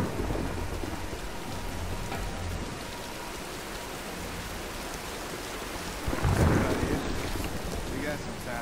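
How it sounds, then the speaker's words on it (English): Steady heavy rain and rumbling thunder from a storm in the Tomb Raider video game, a dense wash of downpour with a louder thunder swell building partway through. "Nah, let's wait out the storm."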